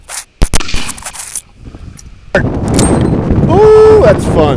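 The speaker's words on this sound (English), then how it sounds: "We're going to do 3 shots at 30 yards." A Winchester 1885 Trapper lever-action rifle in .45-70 fires outdoors at a 30-yard target, giving a couple of sharp close reports early on, then speech follows over steady background noise.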